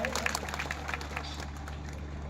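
A crowd at a Congress party rally applauds a farmers' wing leader onto the stage with a steady, moderately loud patter of clapping over a low hum.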